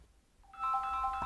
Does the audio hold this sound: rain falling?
no